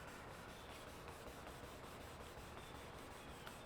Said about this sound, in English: I'm putting just medium pressure to feel the bite of the sandpaper.